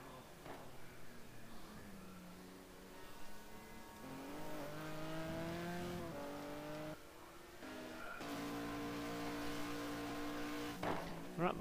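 A Nissan GT-R race car in a racing video game, engine revving up and down through gear changes with rising and falling tones, steady and moderately loud throughout.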